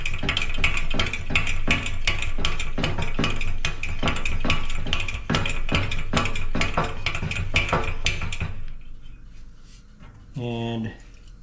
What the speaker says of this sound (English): I'll pump a little pressure in here.